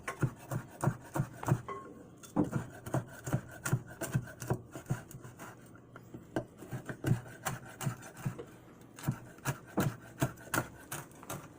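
Bacon and cheese frittata mixture tossed together by hand, giving a steady run of soft, close clattering and rubbing strokes at a brisk rhythm, with no talk.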